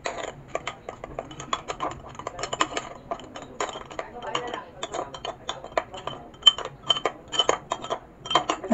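Soju being mixed with condensed milk in a glass, a spoon clinking and tapping quickly and irregularly against the glass up close, alone with no talk.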